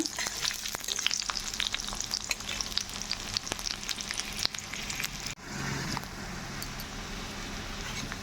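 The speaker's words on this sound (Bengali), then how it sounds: "পেঁয়াজটাকে লাল লাল করে ভেজে নিব।" Chopped onions fry in a pan with sharp crackling sizzle and clicks of stirring, then settle into a smoother, quieter hiss after a brief pause; close by, no voices.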